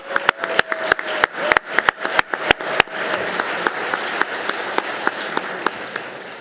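Audience applause at the Mountain View Celebration of Leaders & Athena Awards 2023, a burst of sharp, close claps that settles into steady, fuller clapping from a crowd, with no talking over it.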